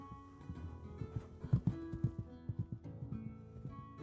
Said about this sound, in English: it's the horse stepping noise